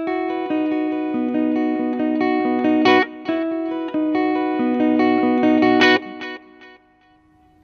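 Guitar played through a Boss MS-3 multi-effects switcher set to a combined reverb and delay, two sustained strummed chord passages ringing with long echoing tails that fade out at the end, loud and alone.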